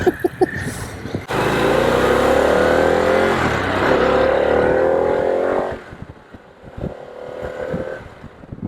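A newly bought adventure motorcycle rides a dirt road through woods near the Ocala National Forest. The engine drones loud and close in a steady pull, then eases off, with some rustling and bumps at the start and end.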